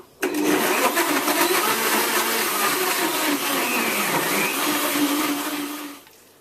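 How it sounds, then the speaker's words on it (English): A blender runs on high, blending a chocolate soy milk smoothie with chocolate syrup. It whirs as one loud, steady drone for about six seconds, then cuts off abruptly, with no talk over it. "Now blend this on high for 30 seconds"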